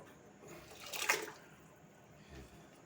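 Water poured while rice is being rinsed, a short splashing burst peaking at mid-clip over faint room noise, followed by a soft low thud.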